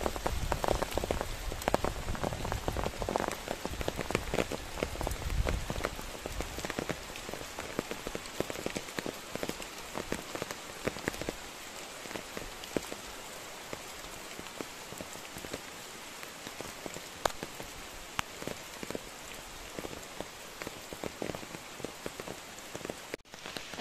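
Steady rain falls on surfaces nearby, a dense, even patter of drops that goes on without pause, with no voices.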